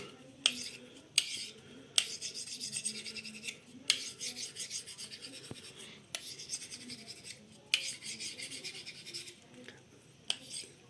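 A steel knife is sharpened on an oiled sharpening stone in long, rhythmic rasping strokes, repeated again and again at close range, each marked by a sharp scrape or click where the blade starts or turns.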